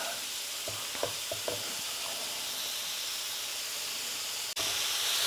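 Sausage cooking in a pan for creamy firecracker sausage pasta, a steady hissing sizzle with a few soft scrapes early on, close and even, no voices.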